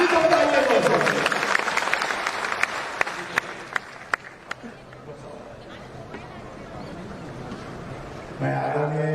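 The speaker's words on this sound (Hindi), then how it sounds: "एक बार जोरदार ताली सबके लिए होना चाहिए।" A hall audience at a Jan Suraaj state-level workshop in Patna's Bapu Sabhagar breaks into strong applause, with sharp individual claps standing out as it thins and fades, before a voice begins speaking at the end.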